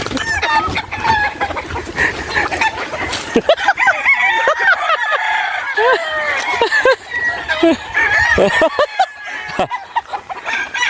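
Chickens cluck and a rooster crows repeatedly, close and loud, on a coffee farm, with people talking underneath throughout.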